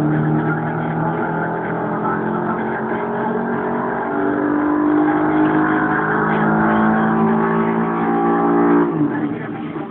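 A 2004 Subaru Impreza RS with its 2.5-liter engine, still stock, running on a dyno: a loud, sustained engine drone whose pitch climbs steadily through the revs before cutting off near the end.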